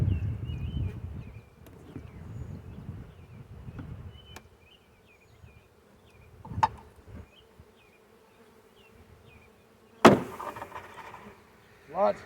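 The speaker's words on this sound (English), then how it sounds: "Lots of bees." A swarm of honey bees hums and buzzes steadily after being dumped into a hive box, with sharp knocks and clatter of box handling cutting through and nearby bird chirps.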